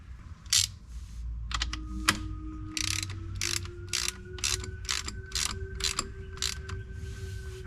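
A hand ratchet clicks in short repeated bursts while a transfer case plug is driven back into a Jeep Commander, close up and crisp over a low hum, with a faint tone rising in the background.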